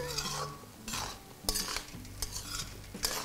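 Tomato rice is mixed in a pan with a spoon. Soft repeated scraping strokes fall in a loose rhythm over a faint sizzle, with occasional metal clinks.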